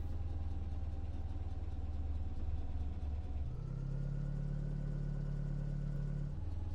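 A truck engine in the Ranch Simulator video game drives steadily with a loud, continuous low drone, its pitch stepping up partway through as the vehicle shifts or accelerates, then dropping back near the end, with no voices.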